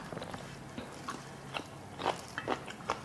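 Crunchy spicy squid salad with glass noodles being bitten and chewed close to the mic: a series of crisp, wet crunches at an irregular pace, with no voices.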